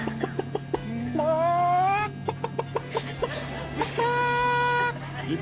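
A man imitates a chicken with his voice, a string of short percussive clucks followed by rising, squawking hen-like calls, loud and close, with a steady low hum underneath.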